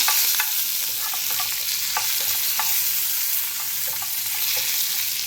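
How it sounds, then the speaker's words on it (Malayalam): Mustard seeds, a green chili and curry leaves sizzle in hot oil, tempering for a Kerala onion theeyal. Steady, close frying hiss runs throughout, with scattered sharp pops and crackles and no talking. "മറ്റേ തിളയ്ക്കുന്ന സമയത്ത് ഞാൻ ഇതൊന്ന് കടുവറുത്ത് വയ്ക്കാമെന്ന് വിചാരിച്ചു"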